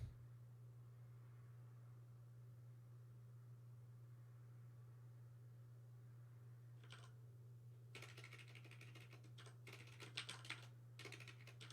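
A computer keyboard being typed on, with faint isolated keystrokes and then a quicker burst of clicks over a steady low hum while someone edits C++ code.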